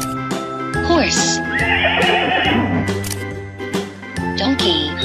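A horse neighs loudly, its whinny rising and falling over a children's song with music and singing, with hoof-like clip-clops mixed in.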